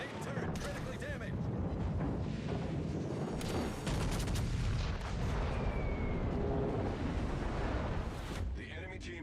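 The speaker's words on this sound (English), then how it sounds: "a full salvo of 16-inch fucking guns into the broadside of a carrier" Heavy booming salvo of 16-inch naval guns in a naval battle video game, a dense continuous roar of blasts and rumbling explosions filling the scene, with a voice talking underneath.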